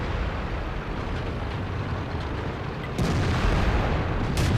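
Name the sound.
tank cannon firing in World of Tanks video game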